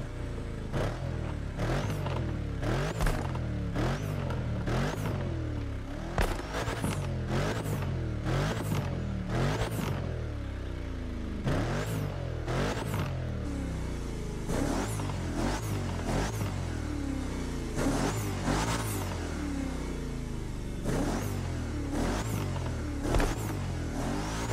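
Mercedes-Benz SL 63 with its V8 bi-turbo engine in The Crew Motorfest, revving and surging repeatedly with sharp gear-shift breaks, loud and continuous throughout with no talk over it.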